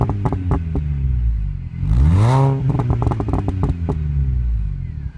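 A 2003-era R53 MINI Cooper S John Cooper Works with 210 bhp and a Milltek sports exhaust fires up nearby, a loud burst of revs rising and falling once before settling into a throbbing, lumpy idle with rapid exhaust pulses.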